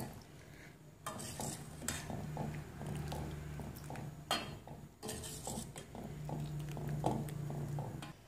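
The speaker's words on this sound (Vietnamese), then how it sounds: "mình vớt hết ra bát nước lạnh nhé" Cooked noodle dough pieces are scooped out into a bowl of cold water, giving close clinks and scrapes of utensil against bowl with soft watery stirring and a faint background hum.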